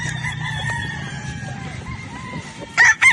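A young gamefowl broodstag rooster at a game farm gives a loud, short crow near the end, after a few seconds of quieter background clucking and faint voices.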